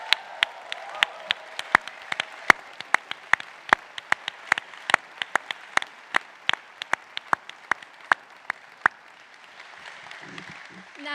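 Applause at a Stanford GSB MBA, MSx and PhD graduation ceremony, scattered sharp claps from a seated crowd spread across the hall, thinning out toward the end.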